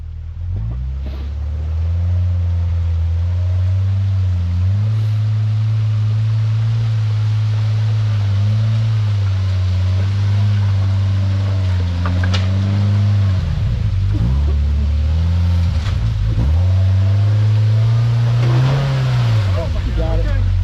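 A Can-Am off-road vehicle climbs a rock crawl trail, its engine droning loudly and close throughout, the pitch rising and falling with repeated revs and a few dips as it labors over the rocks.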